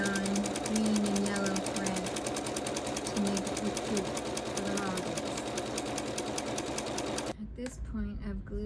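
A sewing machine stitches a snowman rope ornament with a fast, steady mechanical chatter that runs continuously and then stops abruptly, with a person talking over it.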